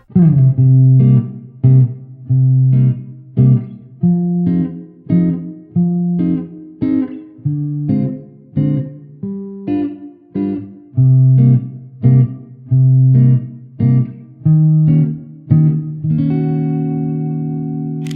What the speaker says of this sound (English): Let's say you want a jazz sound.